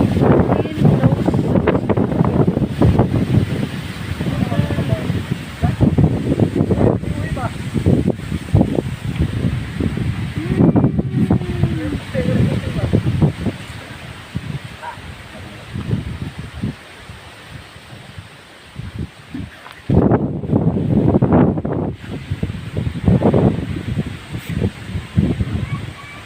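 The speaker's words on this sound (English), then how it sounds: "Wind blows" Strong wind blows outdoors in upper Sabang, Sibonga, Cebu, ahead of a typhoon, with loud gusting rumble and rustling close to the microphone and brief lulls between the gusts.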